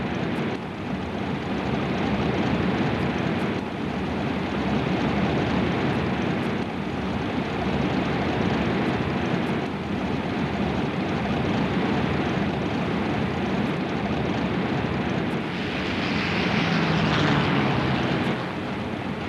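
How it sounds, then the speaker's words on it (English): Japanese attack planes launching from the flight decks of aircraft carriers in the carrier strike force at Pearl Harbor in 1941, a steady, loud, continuous propeller-engine drone with a brief swell near the end. "the 6 aircraft carriers in the Japanese Carrier Strike Force turned into the wind and began launching their first wave of attack planes"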